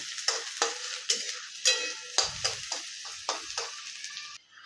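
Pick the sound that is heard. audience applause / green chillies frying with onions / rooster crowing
green chillies frying with onions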